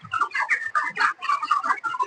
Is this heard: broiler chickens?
yes